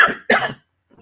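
A brief coughing fit from a person recovering from a rib injury, with two sharp, close coughs in quick succession followed by a faint breath.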